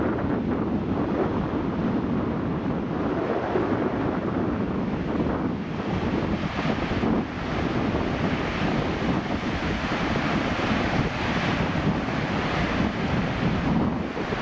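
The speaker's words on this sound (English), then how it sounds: "It's a lot of water coming down there." Snowmelt stream on Mt. Hood along the Timberline Trail, a steady broadband roar of rushing water running loud and unbroken throughout, with wind buffeting the microphone.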